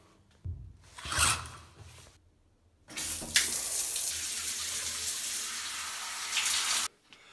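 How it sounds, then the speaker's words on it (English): A shower is switched on and water runs in a steady, broad hiss at close range, preceded by brief splashes and handling noises, then cuts off abruptly. "Shower makes everything feel better."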